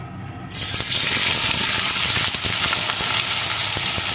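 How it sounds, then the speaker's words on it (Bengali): Soybean chunks frying in hot mustard oil for a vegetarian soybean dish, a loud steady sizzle bursting in after a brief quieter moment and crackling on continuously, close up. "এখন সোয়াবিনটা ভালো করে ভেজে নেব"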